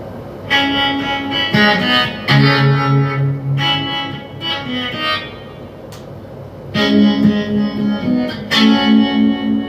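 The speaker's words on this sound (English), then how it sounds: "What effect should I use? I will use the echo effect" Distorted electric guitar riff run through an echo effect, loud strummed chords and sustained notes with repeating trailing echoes and reverb, played in short phrases with brief pauses between them.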